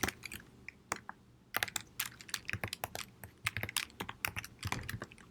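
Fingers type on a computer keyboard while filling in a login form: quick, irregular bursts of close, crisp key clicks with brief pauses between words.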